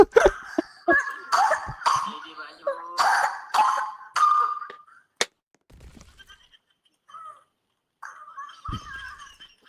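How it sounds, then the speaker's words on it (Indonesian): A young boy coughs repeatedly in bursts, several harsh, throaty coughs in quick succession, loud and close, followed by quieter scattered noises and brief talk. "kamu batuknya jangan begitu ah"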